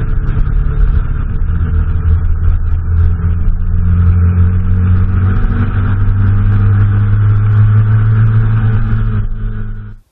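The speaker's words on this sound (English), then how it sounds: "this is the view from the motorcycle on the Reg Pridmore line on my trophy" Triumph Trophy motorcycle engine heard from the rider's position, a steady, loud rumbling drone that rises gradually in pitch as it accelerates along the road, with wind noise, then cuts off abruptly at the end.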